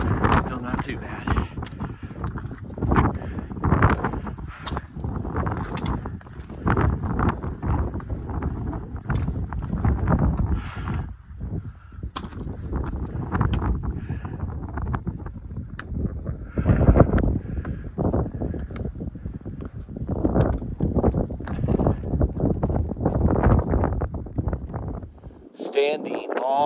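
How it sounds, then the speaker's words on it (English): Strong wind gusting across the summit of Mount Washington in New Hampshire's White Mountains, buffeting the microphone with loud, irregular rumbling bursts for nearly half a minute. "Windier up here."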